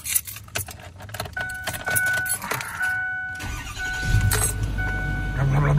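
Keys jangle and rattle, then a big diesel vehicle engine cranks and catches, settling into a deep, steady rumbling idle close by.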